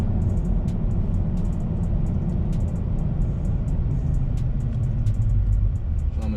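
2017 Toyota Tacoma pickup accelerating from a stop and shifting up through gears, a steady low engine rumble with repeated ticking from inside the cab.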